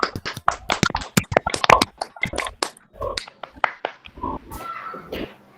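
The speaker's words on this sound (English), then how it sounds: "Let's all unmute and clap for him." Participants on a video call clap after unmuting, giving scattered, uneven bursts of close claps through patchy, compressed call audio, with irregular gaps between claps.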